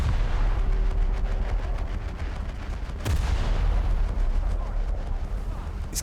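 Bofors anti-aircraft guns firing aboard a US treaty cruiser in a naval combat game, a continuous rumbling barrage of booming shots with one sharp, louder blast midway, under occasional talk.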